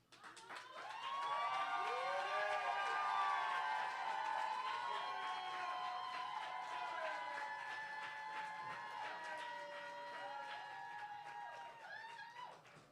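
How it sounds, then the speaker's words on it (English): An audience at a Berkeley poetry slam semifinal applauds and cheers. Whoops and whistles rise over steady crowd noise, which stays loud and continuous for about twelve seconds before easing slightly at the end. "Keep that round of applause going for Cadence."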